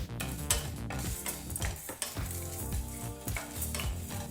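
Cinnamon, cardamom, cloves and dried chilies roasting over a low flame, with a soft sizzle and frequent clinking, scraping stirs of a spoon against the pan, close and steady.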